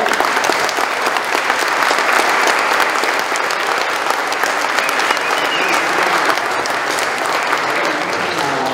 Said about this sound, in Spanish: Vamos a dar un aplauso a los recién